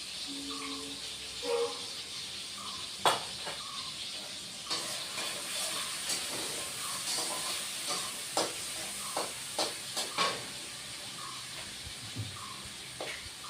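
Bay leaves crackling in hot oil while cooking Bengali veg dal, a soft steady sizzle with scattered sharp pops and crackles throughout, moderately close and fairly quiet.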